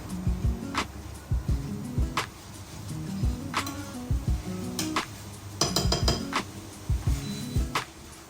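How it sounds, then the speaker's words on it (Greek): A spoon stirring risotto rice in a pot for mushroom risotto with truffle oil, with repeated clinks and scrapes against the pot in an irregular rhythm, close and fairly quiet, with no talk. "Ανακατεύω."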